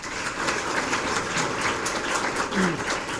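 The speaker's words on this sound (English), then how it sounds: "Please give Roland a round of applause." An audience at a library and educator partnership program announcement applauds a speaker, a continuous wash of many hands clapping at moderate distance, steady throughout with no voices standing out.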